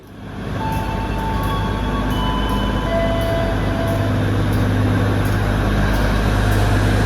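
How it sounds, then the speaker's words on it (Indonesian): A Pramex local train pulls out of a station bound for Kutoarjo, heard from a platform as a loud, steady low engine rumble and hum that holds throughout, with no voices. "Ini ada kereta api Pramex yang mau berangkat ya"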